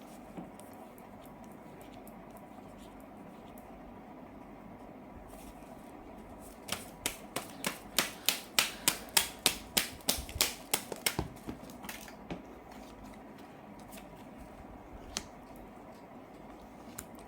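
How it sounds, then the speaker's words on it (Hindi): Tarot cards are riffle-shuffled in a quick burst of crisp, rapid flutter clicks lasting several seconds, close and clear against a quiet room. "अगेन हम शफल करते हैं"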